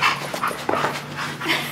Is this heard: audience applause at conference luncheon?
no